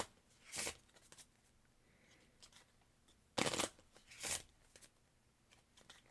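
Quiet shuffling of Marvel Champions game cards in a few short bursts: a riffle early on, then two louder riffling bursts close together, with near silence between.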